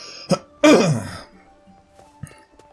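A person clears their throat with a sharp rasp and then a longer, rougher throat-clearing burst, close to the microphone, followed by faint small clicks and quiet room sound.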